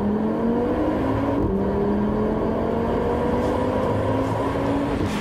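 Audi RS3 Performance Edition five-cylinder engine revs hard and steadily, its rising harmonic tone loud and close throughout with no talking.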